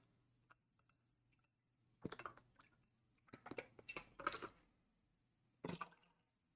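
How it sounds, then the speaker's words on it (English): Liquid is poured into a metal mixing tin already full of ice, bringing a few short splashing, clinking bursts with pauses between them, close and fairly quiet, with no speech. "I'm pouring this into what I'm going to be using as a mixing tin today, already full of ice."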